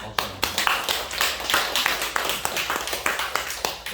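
A church congregation claps together for a teacher who prepared a meal, a run of fairly even, close hand claps filling the room.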